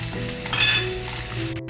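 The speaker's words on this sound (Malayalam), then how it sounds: "വാളംപുളി എണ്ണയിലിട്ട് തന്നെ ചെയ്യണം" Tamarind frying in hot oil in a pan while making Kerala red chilli chammanthi, a steady close sizzle with a brief louder burst of crackle partway through and a quick cut near the end.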